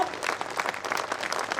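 Audience at an All India Mushaira poetry gathering in Belgaum claps in a brief, fairly faint burst of applause.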